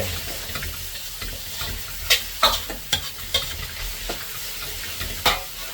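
Vegetables sizzle and fry in a pan while being stirred, a steady hiss broken by several sharp clinks and scrapes of the utensil against the pan.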